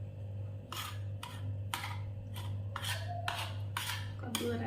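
A spoon scrapes and clinks against a bowl in quick, irregular strokes, mixing boiled pumpkin into raita, over a low steady hum, fairly quiet and without talk.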